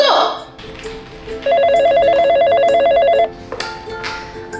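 A telephone rings with a loud, rapid electronic trill lasting a couple of seconds, during a customer complaint call about a gelled chicken essence product. It stands out between stretches of background sound and other noises.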